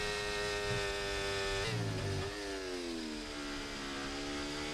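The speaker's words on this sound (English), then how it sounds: "what is this engine noise? Let's have a listen." F1 24 race car engine in a video game during a league race in China: a high, buzzing engine note that holds steady, drops sharply at an upshift, then climbs again as it revs, loud and alone.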